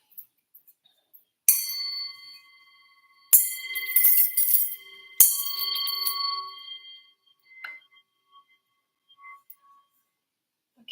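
A gong rings out in three separate strikes, each a bright metallic shimmer that hangs and slowly fades, with quiet gaps between them.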